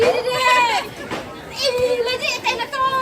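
A goat bleats a few wavering cries during preparations for a village funeral ceremony, close by, mixed with voices and children's chatter.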